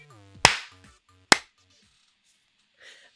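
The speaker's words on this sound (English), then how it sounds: "Clap." Two sharp, loud hand claps spaced about a second apart, followed by a faint rustle, with no voices.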